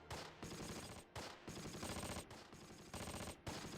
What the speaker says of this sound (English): we got MG fire coming in from seemingly here, or further back here.